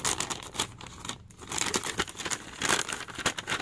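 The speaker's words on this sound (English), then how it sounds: "tear open the top." Tearing open the plastic top of the flameless ration heater pouch from a 2015 U.S. military MRE, a close crinkling rip of plastic with rustling handling, alone without voices.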